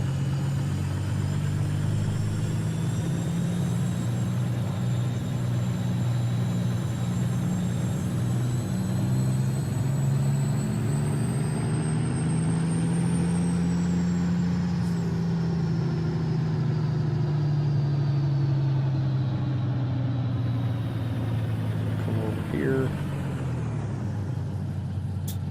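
Truck engine idling steadily in American Truck Simulator, a low continuous rumble with a faint whining tone that shifts slightly in pitch, ending with a short hiss near the close.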